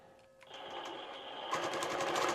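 A sewing machine runs close up, stitching a quilt guided by a ruler template. It starts with a short hum, then settles into a fast, steady mechanical whir that grows louder and busier toward the end.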